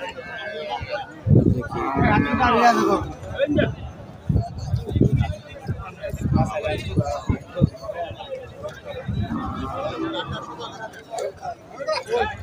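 Cattle moo at a busy outdoor cattle market while people talk and chatter nearby, the lowing calls mixed in with the voices.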